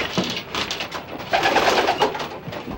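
Pet pigeons cooing steadily at close range, soft throaty calls repeating through the whole stretch and swelling louder toward the middle, with no talking over them.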